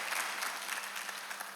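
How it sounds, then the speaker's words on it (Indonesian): A church congregation at a Surabaya worship service claps together, a dense, even wash of applause that holds steady for the whole short stretch with no voices over it. "Tepuk tangan bagi dia, saudaraku."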